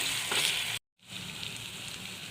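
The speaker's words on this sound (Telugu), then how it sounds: "ఆనియన్ ఇలా బ్రౌన్ కలర్ వచ్చేంత వరకు వేయించుకోవాలి" Onion frying in a pan until brown, a steady close hiss of sizzling oil that cuts out briefly and then resumes at an even level, with no voices.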